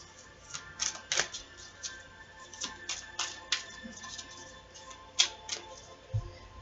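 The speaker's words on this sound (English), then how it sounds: "So let's pull some cards here and see what comes up." Tarot cards are shuffled and drawn, producing soft irregular flicks and snaps, scattered clicks spaced across a quiet room with a dull thump near the end.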